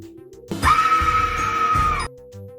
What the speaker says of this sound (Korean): 그리고 잠시 후 들리는 외마디 비명소리